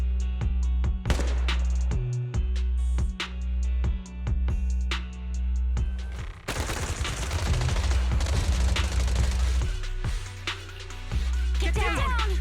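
Suppressive marching gunfire in the video game Zenless Zone Zero, rapid bursts of shots with heavy impacts and a dense volley in the middle, loud and close among game sounds and effects.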